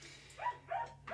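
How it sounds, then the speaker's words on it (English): An excitable dog barks just outside a window, three short yappy barks in quick succession, moderately close and clear over a faint background hum. "She's a very excitable dog"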